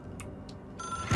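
An old telephone rings in the video game Control, a short trill of electronic ringing that starts with brief chirps and then settles into a steadier tone, heard fairly close and alone.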